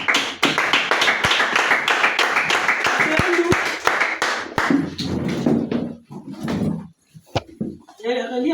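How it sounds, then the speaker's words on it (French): A children's Sunday school congregation bursts into loud, dense applause for God's word, sustained for about four seconds before thinning into scattered claps and murmuring voices. "Nous acclamons pour la parole de Dieu."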